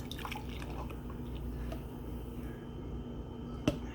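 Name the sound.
golden milk being poured into a cup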